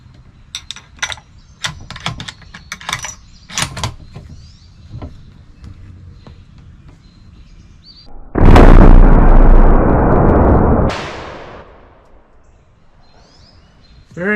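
A Tikka T3X rifle fires a custom 150-grain hand load in one sharp, loud shot whose blast rings out for about two seconds, preceded by faint handling clicks and taps.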